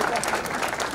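Applause from an audience gathered for an MLK Day event, a brief wash of steady clapping lasting about a second.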